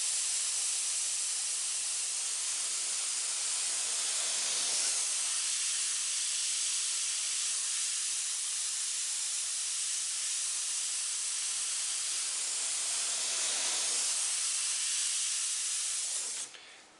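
Spray paint laid down as a light, even mist over a surface for a two-tone tribal design: a steady, close, continuous hiss that holds almost unchanged for the full length before cutting off at the end, with no voices.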